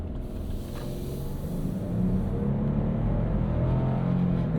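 Lexus GX 550 SUV engine building torque as it accelerates onto a main road, a low steady rumble that swells in the second half, heard from inside the cabin.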